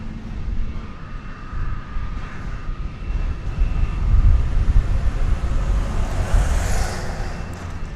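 Jet noise from an America West airliner at a runway at DFW, a steady broad rumble holding at moderate loudness and swelling slightly toward the middle, with no voices.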